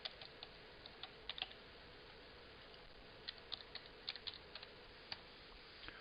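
Someone types a password on a computer keyboard in a few short, faint bursts of light clicking keystrokes over a quiet background hiss.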